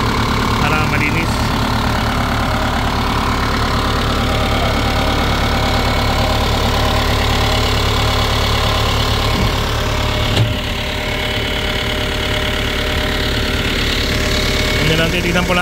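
An Isuzu diesel engine idles on a Hitachi EX100 excavator with a loud, continuous, close rumble and a steady knocking clatter. A voice talks over it.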